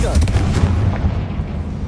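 A Confringo spell explosion in Hogwarts Legacy on PS5: a loud, heavy boom with deep rumble that pulses and rolls for about two seconds before easing slightly.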